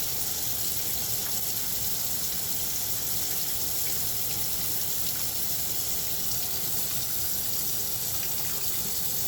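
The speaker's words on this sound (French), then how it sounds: "On fait couler de l'eau froide pour faire baisser la pression à l'intérieur." Cold tap water gushing steadily over a pressure cooker of potatoes to bring the pressure down, a loud, continuous, close hiss and splash with no talking.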